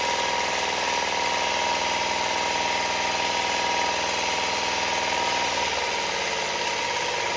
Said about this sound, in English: we're only running the motor at about 2/3 of its potential right now